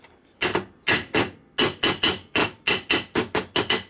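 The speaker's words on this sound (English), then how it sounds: "So then you take a hammer," Hammer taps on a 1981-84 Shovelhead left-hand motor case, about eleven sharp metallic strikes in an uneven rhythm, close and loud with no talking.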